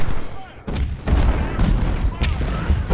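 Artillery fire rumbles through a First Bull Run Civil War video game battle, a steady barrage of deep booms and overlapping gunfire continuing throughout at loud, close range.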